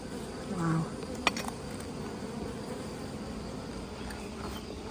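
Honey bees hum steadily around a hive frame being filled with nectar, a low continuous drone close by with one brief sharp knock partway through and no talk over it.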